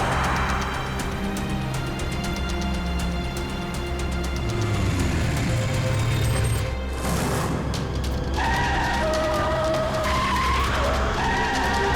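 A car skids hard to a sudden stop beside a bike on a city street, a loud tire screech swelling over steady traffic rumble and fading into engine noise.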